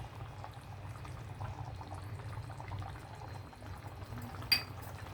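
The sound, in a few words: fish curry with raw banana simmering in a pot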